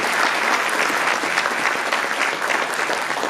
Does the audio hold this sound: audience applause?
yes